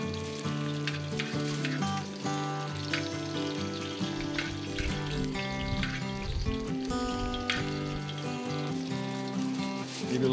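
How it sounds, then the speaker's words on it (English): A 50-day dry-aged ribeye being basted with garlic on a Skottle, with steady sizzling and spattering fat that continues throughout, close and even in level. "I'm gonna throw a little garlic in there. And I'm just gonna start basting it."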